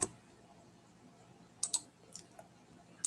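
Keys click on a computer keyboard during AutoCAD drafting: a few isolated, crisp taps spaced out over a quiet background, close and light.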